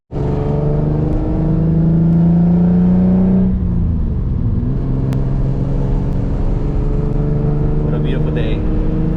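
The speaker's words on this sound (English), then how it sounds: "to be disturbing the peace in my loud 350Z." A loud turbocharged Nissan 350Z making about 800 wheel horsepower revs hard from inside the cabin, its engine note climbing and shifting before settling into a steady droning cruise, with someone talking over it.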